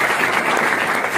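An audience at a business school gathering in Karachi breaks into brisk, loud applause, a dense continuous patter of many hands clapping close by with no voices over it.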